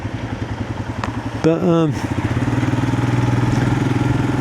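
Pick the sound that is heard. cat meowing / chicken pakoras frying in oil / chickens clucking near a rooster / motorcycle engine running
motorcycle engine running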